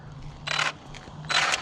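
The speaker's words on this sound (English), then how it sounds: "Something's up with the gears, man." Gears in a Traxxas Slash 4x4 RC car grind in two short, raspy scraping bursts separated by a pause, over a low steady hum.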